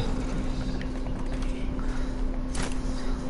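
Horse hooves clip-clopping in the Fortnite video game, a steady run of hoofbeats under a constant low hum, with one louder clatter near the end.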